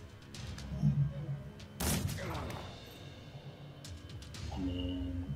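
A gunshot in the video game Mordheim: City of the Damned, a single sharp blast followed by a rolling echo, set against a low game backdrop.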